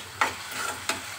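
Chicken liver gravy with coriander being stirred in a pan, a few sharp scraping strokes of the spoon against the metal over a soft background sizzle.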